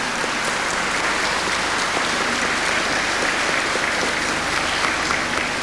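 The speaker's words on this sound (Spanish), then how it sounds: "Aplausos, vítores, en este preciso momento coronan este emotivo instante." A large crowd applauds inside a cathedral at a 1987 papal event with Argentina's Ukrainian community, a dense, steady wash of clapping that holds evenly loud throughout with no speech over it.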